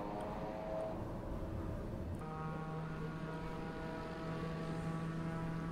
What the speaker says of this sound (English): And here we also have reverse thrust.